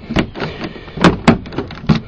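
Custom-cut key working the door lock of a 2003 Honda Pilot, a series of sharp mechanical clicks and clunks spaced irregularly, loud and close.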